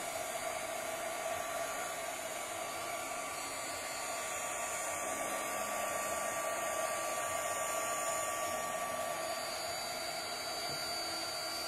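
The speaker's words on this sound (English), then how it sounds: "with the heat gun, I do try to move it around just a little bit" Continuous whooshing roar of a heat gun warming a bowl for a mushroom gnome candle holder, close and steady with a faint motor whine beneath, with no voices present.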